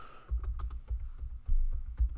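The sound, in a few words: typing an answer into a Google Doc on a keyboard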